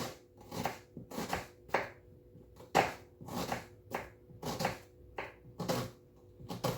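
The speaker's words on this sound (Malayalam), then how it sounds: "നമുക്ക് സവാളയൊക്കെ ഒന്ന് കട്ട് ചെയ്തെടുക്കാം" Onions being finely chopped with a knife on a board for a home-cooked dish: a steady series of about a dozen sharp, close chopping thuds in irregular bursts, with no talking.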